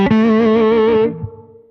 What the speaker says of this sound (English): you can do the pseudo humbucker thing by turning that tone knob down some.